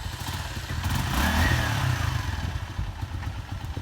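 A Honda CG125 motorcycle engine runs close by with a steady, throbbing mid-pitched chug that swells briefly and then settles, no voices over it.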